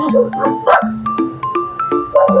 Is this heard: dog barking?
yes